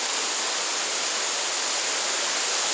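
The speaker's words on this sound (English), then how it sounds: "Gonna get a little noisy with the falls, guys." A waterfall rushes in the North Maine woods, close by and loud. A dense, unbroken roar of water fills the whole clip with no other sounds.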